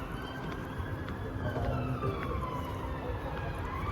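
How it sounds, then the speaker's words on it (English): A distant ambulance siren wails up and down, fairly faint beneath a constant rumble of city traffic. "I think this is the siren of ambulance"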